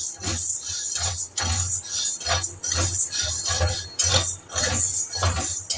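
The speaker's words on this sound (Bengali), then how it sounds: "এটাকে হালকা আঁচে নাড়াচাড়া করে নিচ্ছি" Dry sago pearls are stirred in a pan over low heat, producing a steady rhythm of light rattling scrapes and clinks from a utensil, repeating roughly every half second, close and clear without speech.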